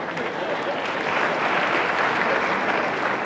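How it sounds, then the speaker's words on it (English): Audience at a speech on Africa's creative economy breaks into steady, dense clapping that holds evenly throughout, fairly loud and without pause. "You're free to clap."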